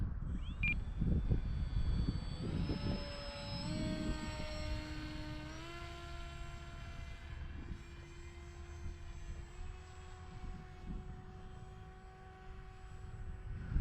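A Dynam Hawksky V2 RC airplane flies on its maiden flight, its electric motor whining steadily with pitch shifts as it passes, loud at first, then fading slightly in the distance over outdoor noise.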